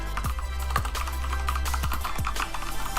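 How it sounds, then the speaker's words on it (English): Steady typing on a computer keyboard, close and clear, with rapid key clicks running continuously over a low background hum while a text box is filled in. "And I'll just type it out."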